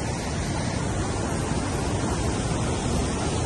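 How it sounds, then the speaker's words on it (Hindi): Water rushes and roars loudly and continuously at Khukush lake in Pakistan, a dense broadband torrent close by with no voices. "लाखों लीटर पानी एक ही सेकंड में जा रहा है"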